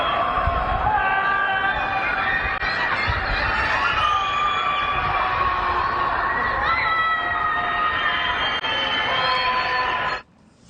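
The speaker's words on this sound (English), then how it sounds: "What you're hearing in this video are the screams of the people trapped inside." Shrill screaming and wailing voices from people trapped in Shanghai apartment towers during the 2022 COVID lockdown, a dense, continuous outdoor chorus that sounds distant and echoing between tall buildings, with overlapping cries sustained for about ten seconds before stopping abruptly.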